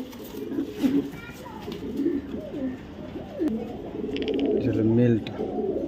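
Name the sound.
male racing pigeon cooing while held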